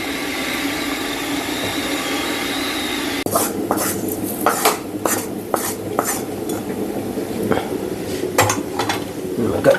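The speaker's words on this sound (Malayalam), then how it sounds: "നമുക്ക് സാമ്പാറിനുള്ള സാമ്പാർ പൊടിയും കൂടെ ഈ ചീനച്ചട്ടി തന്നെ ചൂടാക്കി അങ്ങോട്ട് ചേർക്കാം." Sambar powder stirred in a heated iron pan, a quiet sizzling hum at first, then repeated scraping clinks of a spoon against the pan in an irregular rhythm, close and fairly loud.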